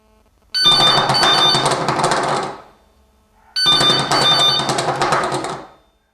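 A telephone connected to a Geemarc Wake and Shake vibrating alarm clock rings in two loud, long bursts, each about two seconds of rapid electronic trilling, separated by a brief silence.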